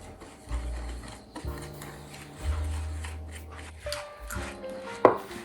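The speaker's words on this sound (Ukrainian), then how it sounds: "Змішую сухі інгредієнти, додаю їх до жовтків і все перетираю." Dry ingredients are mixed and rubbed into egg yolks in a bowl for a Greek trigona panoramatos pastry cream, giving close, repeated scraping and tapping strokes with a brief louder clink near the end.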